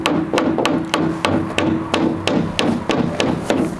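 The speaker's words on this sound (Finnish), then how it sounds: "Tästä on naula ulkona, se pitäisi hakkaa sisään." A nail hammered into greenhouse wood: about ten firm, evenly spaced blows land close by, each a sharp knock with a slight ringing tail.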